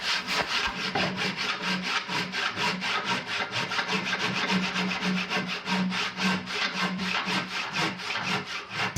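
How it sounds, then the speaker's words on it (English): A long, narrow, flexible panel saw cuts green wood by hand while a paddle is shaped from a tree, with steady rhythmic back-and-forth rasping strokes, close and continuous. "the panel saw worked well is because it's a very long and flexible with a fairly narrow blade for a panel saw"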